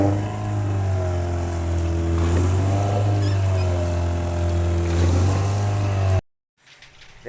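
A sailboat's outboard motor drones steadily and loudly up close for several seconds, a constant buzzing hum with slight wavering, then cuts abruptly to near silence before faint sound returns.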